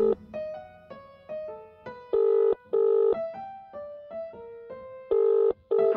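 A telephone number is dialed on a phone: a sequence of clear, loud keypad tones, some short and some longer, separated by brief pauses, with no talking.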